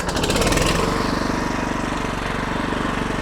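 The petrol engine of a Weibang WBGT6813-TE hybrid remote-controlled shredder fires up after a pull-start and settles into a loud, close, rapid chugging idle with a steady pulsing rhythm.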